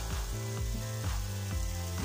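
Okra (bhindi) cooking in a pan after being covered for about five minutes, giving a steady close sizzle with a low rhythmic clatter, heard alone without talk.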